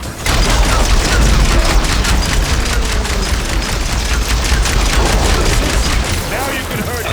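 Supporting gunfire from the ally Zoe in Horizon Forbidden West: loud, continuous rapid shots and booms over rumbling action, with someone speaking over the fighting.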